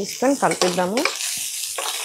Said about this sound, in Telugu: ఇది కాసేపు వేగనిద్దాము